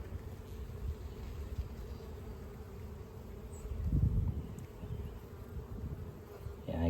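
Honeybees hum steadily around the queen inside an open hive, a low continuous drone that swells briefly midway before settling back.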